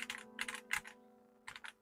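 Typing on an LTC NB1041 Pro full-size mechanical keyboard: close, crisp bursts of keystrokes in quick clusters with a short pause in the middle, no voices.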